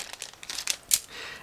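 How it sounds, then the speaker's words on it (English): Crinkly plastic bag being opened for a 1/48 scale ICM B-26K model kit, a quick series of close, sharp rustles and crackles with one louder crunch near the end. "Next, I'm opening another plastic bag."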